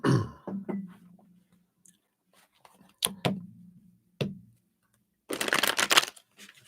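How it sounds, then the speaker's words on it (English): A deck of tarot cards being shuffled, with a few light handling clicks and taps before a dense, crisp riffle burst near the end, close and fairly quiet, without talk. "See if I can shuffle this small stack into this big one here"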